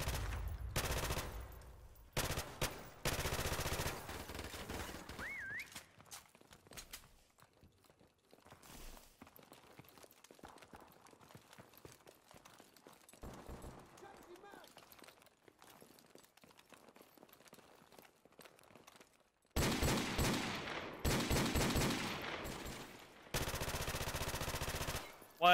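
Video game gunfire in Prop Hunt comes as loud bursts of rapid automatic shots at the start and near the end, separated by a quieter stretch of faint game sounds and footsteps.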